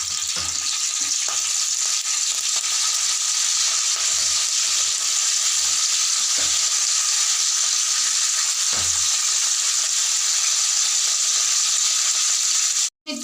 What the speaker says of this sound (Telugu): పచ్చిమిర్చి వేసి వేయించుకుందాం.